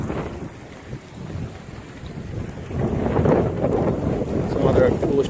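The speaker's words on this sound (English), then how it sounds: "You feel the wind coming off of the ice" Wind blows in off the ice at a winter beach during a blizzard, a steady low rumble of buffeting gusts that swells louder toward the end, with no voices.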